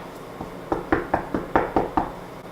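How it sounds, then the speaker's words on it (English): Knuckles rap on a college dorm room door in a quiet hallway: a burst of about seven sharp, close knocks in quick, slightly uneven rhythm, with no one answering. "should I knock?"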